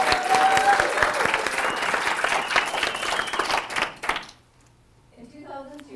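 Audience applause at an NSA Minnesota meeting, loud sustained clapping from a room full of people for about four seconds before it cuts off abruptly to near silence, with a faint voice at the end.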